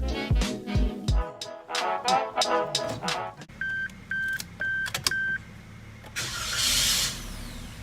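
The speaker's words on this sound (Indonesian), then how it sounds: "sekarang kita masuk di dalam Jimny dan dengarkan suara mesinnya" A few short electronic beeps, then the small engine of a 2020 Suzuki Jimny JB74 cranks, catches and settles into a smooth, steady idle heard from inside the vehicle.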